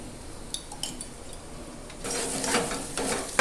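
Spice masala with chilli powder, sugar and salt being sautéed in a pan for an egg curry, with faint clinks of a spoon at first, then a louder stretch of sizzling and scraping stirs.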